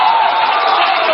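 A crowd at a political party's manifesto launch gives a short, steady wash of applause, loud and continuous, with no voices standing out.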